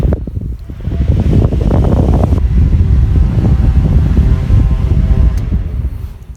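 A small electric fan runs with a steady broadband whir and airy rush, holding a constant level from start to finish with no voices.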